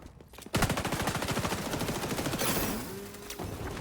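An auto turret in the online shooter XDefiant fires rapid sustained automatic bursts, loud and close, a fast rhythmic rattle of shots running for about three seconds with game effects layered over it.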